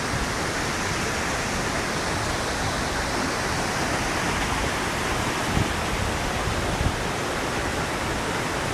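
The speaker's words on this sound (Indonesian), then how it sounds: "Akhirnya sampai juga lah di air terjun si Piso-Piso." Sipiso-piso waterfall gives off a steady, dense roar of rushing water, even and unbroken from start to finish, with no voices over it.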